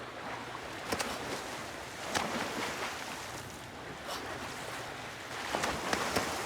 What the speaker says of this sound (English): Loud splashing lets everyone know that they're raring to go.